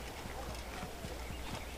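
A horse trots along a road in the Assassin's Creed video game, its hooves clip-clopping in a quick, even rhythm, faint and steady against a hissy, noisy game background.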